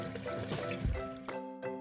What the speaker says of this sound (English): Dampen it in hot water.